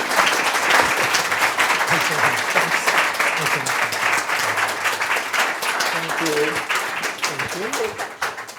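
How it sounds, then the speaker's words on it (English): Audience applause for panelists at an artificial intelligence talk event, a strong burst of crowd clapping that holds steady, with a voice speaking over it toward the end. "let's have a round of applause for our panelists"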